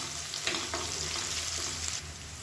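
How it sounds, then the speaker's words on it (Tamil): Onions sauté in a pan for vegetable pulao, a steady close sizzle with a few soft stirring scrapes, no talking. "இப்போ வெங்காயம் ஓரளவுக்கு வதங்க ஆரம்பிச்சிச்சு"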